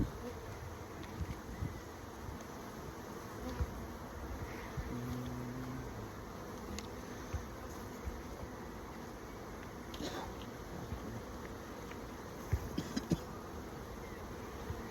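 Honey bees buzz steadily while a hive is opened for inspection, with scattered clicks and knocks from handling over the faint, continuous hum.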